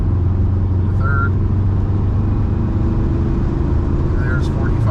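A 1976 Volkswagen Beetle engine drones steadily from inside the car as it accelerates through the gears, a low continuous hum under someone talking throughout.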